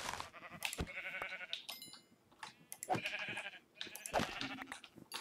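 Sheep in Minecraft give several close, loud bleats in quick succession, overlapping one another, with faint game background sounds between the calls.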